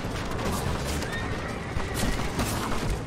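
Horses neigh and whinny in the Red Dead Redemption video game, a steady dense mix with hoof clip-clop and faint distant gunfire throughout, no speech.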